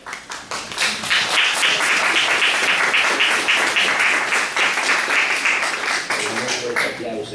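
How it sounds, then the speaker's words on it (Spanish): An audience claps at a tribute event honoring Professor Héctor A. Piccoli in Rosario, with loud, dense applause that holds steady for several seconds and then thins a little toward the end. "Un fuerte aplauso."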